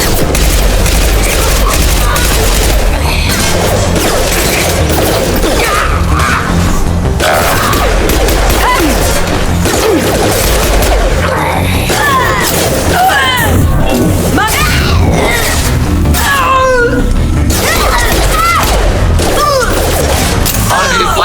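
Weapons fire and booming explosions from a Mass Effect 2 battle rattle continuously and loudly, with sharp bursts and crashes layered together while voices speak over the combat.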